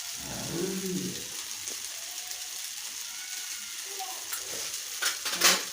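Lemon rice seasoning with turmeric, salt and sugar being stirred and sautéed in a pan, a soft, quiet sizzle with a few scraping stirs and a brief clink near the end.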